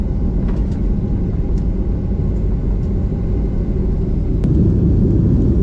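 An Air India Express plane sits on the Calicut airport runway just before takeoff, its engines giving a loud, steady, even rumble with no talk over it.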